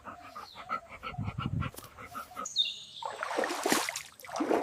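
A dog whines and vocalizes close by outdoors in a watery, wooded area, with bird calls and chirps rising in the second half.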